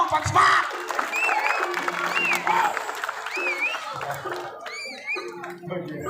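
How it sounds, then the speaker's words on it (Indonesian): Audience applause at a Balinese Calonarang performance in a temple setting, clapping and some cheering from the crowd mixed with voices and background music, fairly loud and sustained across the scene. "Tepuk tangan men po buat Senggong buat semangat."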